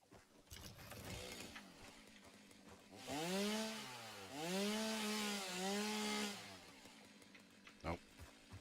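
A chainsaw in Satisfactory revs up against rocks, its engine pitch rising and sweeping in wavering harmonic whines for a few seconds amid softer game ambience and a brief thump afterward.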